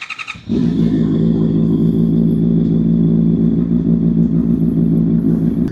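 Motorcycle engine starting up, then idling and running steadily up close with a loud, continuous low rumble, readied for a night ride in Bonifacio Global City.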